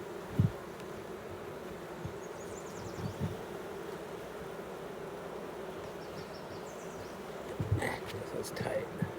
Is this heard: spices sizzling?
no